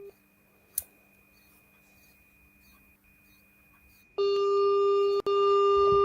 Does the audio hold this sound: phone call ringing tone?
yes